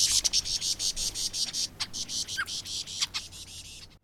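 Lyrebird song type D, a long buzzy phrase: a rapid run of repeated high buzzing pulses, fairly close and steady for several seconds, alone without voices.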